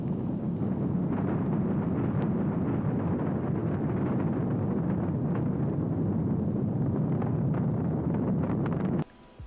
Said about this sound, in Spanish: We have ignition sequence start. Engines on 5, 4, 3, 2, all engines running.